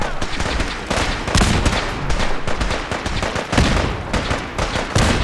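Heavy gunfire in a Fallout 4 battle at Bunker Hill, with loud overlapping automatic bursts and shots going on continuously without a break.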